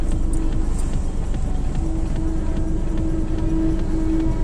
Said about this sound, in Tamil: இந்த மீஞ்சூர்ல இருந்து ட்ரெயின் வருது, சென்ட்ரல் ஸ்டேஷன் போகுது